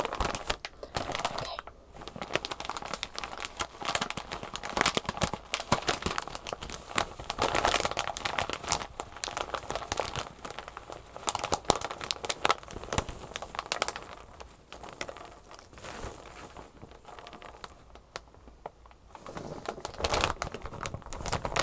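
Small rainbow foam pieces are crinkled close up for ASMR, producing continuous soft, irregular crackling and rustling with uneven bursts of texture.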